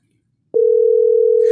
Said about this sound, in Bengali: এক কাজ করি, প্রিয়মকে ফোন করি।